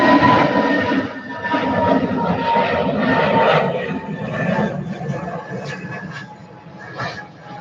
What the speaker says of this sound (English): Off goes EasyJet.